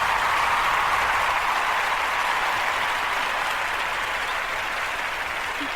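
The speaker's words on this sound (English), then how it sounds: "I got applause." Steady, dense applause from a crowd, many hands clapping continuously at an even loudness throughout.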